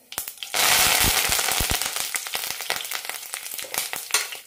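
Mustard seeds spluttering in hot oil in a pan, a dense burst of sharp crackling pops over a loud steady sizzle, close and continuous with no voices.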